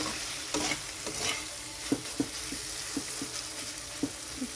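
Dried fish fried in masala in a pan, a soft steady sizzle broken by irregular scraping and tapping strokes as it is stirred, close and fairly quiet with no talk.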